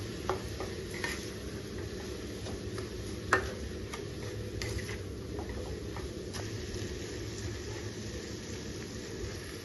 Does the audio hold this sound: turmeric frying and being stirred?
yes